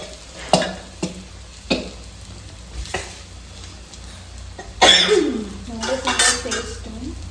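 Fish pieces shallow-fried in oil on a tawa: sharp spoon clinks against the pan give way to a loud burst of sizzling as another piece goes into the hot oil, with crackling continuing after.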